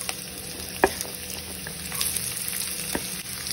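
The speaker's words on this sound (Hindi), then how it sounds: "1/2 ऑनियन डाल दिया, इसको भी फ्राई करूंगी।" Finely chopped onion fries in a pan with garlic, green chili and cumin for a chicken burrito filling, giving a constant close sizzle with a few sharp spoon taps and stirring scrapes.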